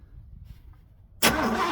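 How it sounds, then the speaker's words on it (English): A 1968 Buick Wildcat 430 V8 that had sat for ten years, quiet for about a second before the starter cranks and the engine catches abruptly into a loud, close roar. "Dave, do you want to crank it?"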